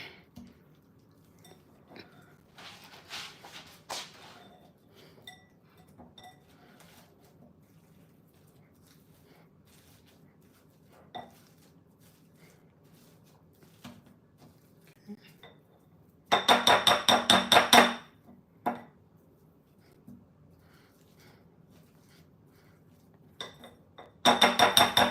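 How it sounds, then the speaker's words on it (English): A masher works potatoes in a pot, giving sparse soft thuds followed by two loud, sustained bursts of scraping and clanking against the metal, with quiet stretches between. "So add the potatoes in. And then let me just see and like mash this."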